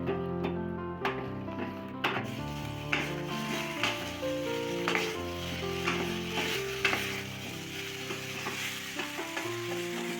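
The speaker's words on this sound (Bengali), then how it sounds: "আলু দেওয়ার পর একটু ভালোভাবে মশলার সাথে নাড়াচাড়া করে নিতে হবে" Potatoes being stirred with spices in a pan for aloo dum, with soft sizzling under rhythmic scraping and tapping of a spoon against the pan, close and unhurried, with a tonal background drone.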